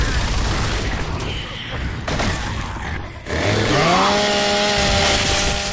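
A chainsaw in a multiplayer video game revs loudly, a harsh buzzing roar that swells after a burst of gunfire-like clatter and holds at high pitch to the end.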